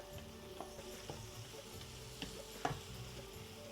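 Crushed ginger and garlic sautéing in a pan for a quick chicken curry, a faint, steady low sizzle with occasional light ticks and spatula taps, no voices.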